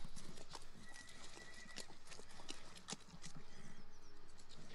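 Horses pulling a wagon through mud walk with a steady, rhythmic clip-clop of hooves, close by, with a brief whinny and faint background noise.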